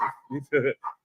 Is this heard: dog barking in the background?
yes